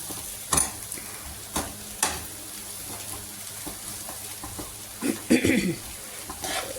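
Food stirred in a cooking pan over a soft, steady sizzle: a few distinct scraping and knocking strokes of a spoon against the pan at uneven intervals, close by, with a busier burst of stirring near the end.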